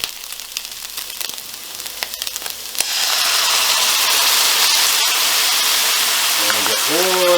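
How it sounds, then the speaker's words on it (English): A sauce of ketchup, mayonnaise, honey, rice vinegar and lime juice hits a hot pan and bursts into a loud, steady sizzle that keeps going, after a few quieter clinks and stirring sounds at the start. "Now it's time to add the sauce that I made earlier. The ketchup, mayonnaise, honey, rice vinegar and lime juice."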